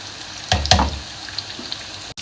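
Onions frying in oil for a dal tadka give a soft, close sizzle with a couple of brief louder crackles near the start, then settle into quieter frying, with no voices.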